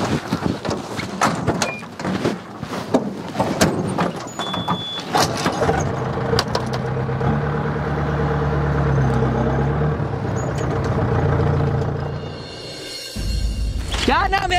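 People climb into a car with door sounds and shuffling as voices talk over them, then a steady engine idle hums underneath, ending with a door thud and a burst of louder noise.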